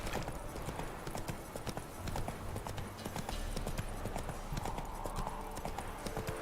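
Roach, Geralt's horse in The Witcher 3, galloping with a fast steady hoofbeat rhythm throughout, close and continuous, over a game soundscape with faint voice in the background.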